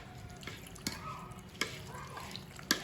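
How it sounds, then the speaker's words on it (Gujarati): Buttermilk and water are poured into a gram flour batter for dosa, making faint wet drips and small splashes punctuated by occasional light taps of a utensil in a quiet kitchen. "અને હવે આપણે પાણી નાખતા જઈએ"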